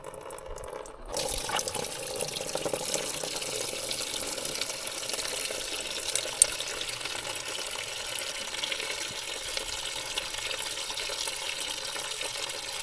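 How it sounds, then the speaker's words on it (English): Solvent and oil drain out of the brake band of an old John Deere 450B dozer in a steady liquid pour, a continuous close trickling and splashing that begins after a second and runs unbroken to the end. "Let's drain it out and see what we got."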